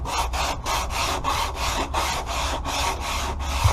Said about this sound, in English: I finished sanding it up to the best of my ability.